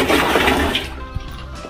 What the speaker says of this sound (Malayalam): ഇതാ അടുത്തത് നമ്മുടെ കടല പിണ്ണാക്ക് പുളിപ്പിച്ചതിനിലേക്ക് ഒഴിച്ചു കൊടുക്കും.